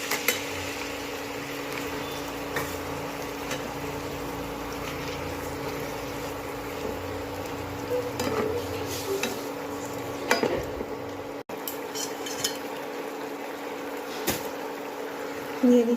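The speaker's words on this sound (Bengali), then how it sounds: "এবার দিয়ে দিচ্ছি ম্যারিনেট করা চিকেনটা।" Marinated chicken frying in a pan, a faint steady sizzle with occasional stirring clatters and a few sharp knocks.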